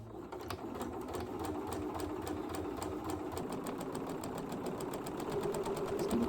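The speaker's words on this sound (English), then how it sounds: "Now just stitching my sleeves." A sewing machine stitches a small hem at the bottom of a boy's shirt sleeve, running in a steady, rapid mechanical whir with even needle clatter, close and continuous, with no talking.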